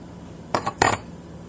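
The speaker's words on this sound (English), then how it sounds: "I might want to get my big old spoon out" Metal cutlery clinking as someone rummages through a kitchen utensil drawer for a big spoon while making macaroni and cheese, two short clattering bursts close by, no talk.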